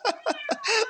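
A cat on a goat farm meows close by: four short, nasal meows in quick succession, the last one longer and drawn out, with no talking.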